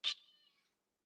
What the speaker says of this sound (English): All I can hear is meowing.